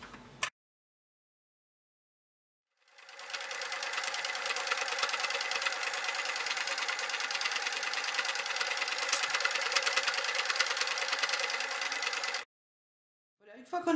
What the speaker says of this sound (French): Je vais coudre ce côté-là pour avoir bien ici l'arrondi